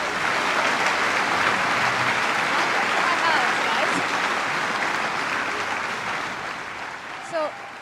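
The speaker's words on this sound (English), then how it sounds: "So Marina Worre, give her a round of applause, everybody." Sustained applause from a large audience at a Go Pro 2021 event, dense and even, fading slightly toward the end.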